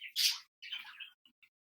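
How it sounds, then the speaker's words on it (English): Pet budgies chirping and twittering indoors, a few bright bursts of song followed by two short high tweets, close and fairly loud with no talk over them. "my kids got 4 budgies. So anytime they hear you talking, they think it's time to start singing"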